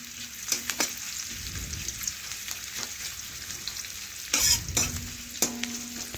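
Small cut potatoes hit hot oil with frying onions, giving a steady close sizzle broken by sharp clattering stirs and scrapes of a spatula in the pan, with no talk.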